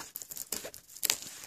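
A poster package is pried and torn open with a fingernail clipper, a short run of crinkling and tearing bursts of plastic or paper, close up, with a sharper rip near the end.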